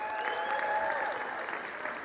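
Live audience applause fills the room at the Dave Nettle Winter Speaker Series, a sustained wash of clapping from a crowd, moderately loud and steady.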